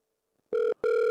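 A telephone rings with two short electronic ring bursts separated by a brief gap, clear and alone.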